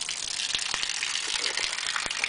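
Water gushes steadily from a valve-controlled pour spout on a military water can with its vent closed, a bright continuous splash broken by rhythmic gurgling glugs as air works into the can, close and alone.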